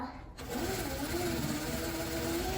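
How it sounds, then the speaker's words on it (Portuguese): A sewing machine running steadily while stitching a bubble puff quilt, a continuous close motor whir after a brief quiet start. "Estou costurando."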